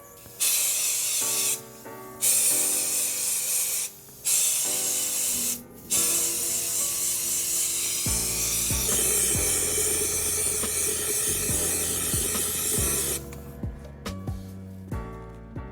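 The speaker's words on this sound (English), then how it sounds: "Let's spray this thing with some powder." A Harbor Freight powder coating gun sprays blue powder onto a YZ125 engine part in loud, steady hissing bursts, several short ones and then one long continuous spray, heard close with no talking.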